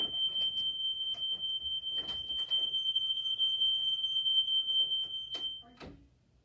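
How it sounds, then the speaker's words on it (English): A downstairs household smoke detector, set off by a toaster sitting right beneath it, sounds a continuous high-pitched alarm tone for about five seconds with clattering and faint voices behind it, then cuts off. "Our toaster sits right under our downstairs smoke detector, and when one goes off, they all go off."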